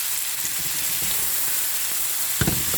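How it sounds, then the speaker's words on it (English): French green beans sautéing in a pan, a steady soft sizzle with light clinks and a brief bump near the end. "Then I am going to add my green beans."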